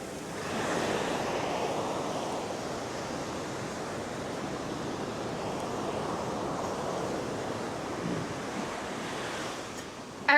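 Ocean surf breaks steadily on an Assateague beach, a continuous wash of waves with wind noise, fairly faint and without voices.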